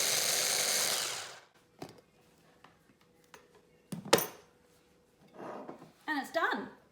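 A food processor gives a brief whir while blending basil pesto with cheese, the loud burst running alone for about a second before stopping, followed by scattered clicks and a short stretch of talk.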